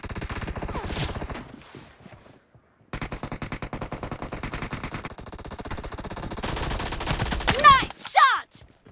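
Rapid automatic gunfire in PUBG Mobile rattles in long close bursts, broken by a short silence before a second sustained stream of shots, with a voice shouting near the end.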